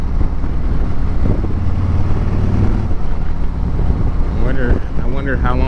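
A Harley-Davidson Road Glide, a freshly built salvage-auction bike, on its first ride: a loud, continuous engine and wind roar throughout, with someone talking over it.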